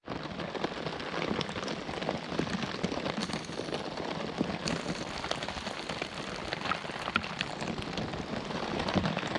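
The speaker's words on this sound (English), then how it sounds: "I think the rain's getting heavier" Heavy rain drums on a tarp shelter at a wild camp in a Scottish downpour, a dense, steady patter of close drops that continues without pause.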